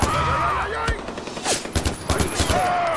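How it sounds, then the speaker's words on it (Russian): Gunfire in the video game Far Cry 4, with loud bursts of shots and rapid fusillade cracks through the middle and end, mixed with other game effects. "Откуда этот выстрел?"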